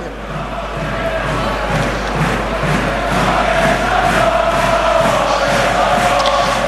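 Stadium crowd at a Perpignan versus Clermont rugby match singing together, a loud, sustained roar of massed voices that swells slightly and carries on throughout.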